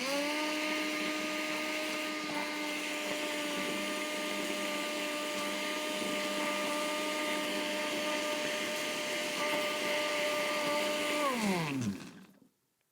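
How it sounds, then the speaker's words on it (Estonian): A kitchen blender, lid on, making paper pulp roars steadily at close range with a strong motor whine, then spins down and stops near the end. "Panen kaane siia kõvasti peale ja paneme blenderi tööle."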